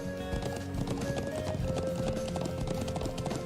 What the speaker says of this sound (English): How to ride the horse.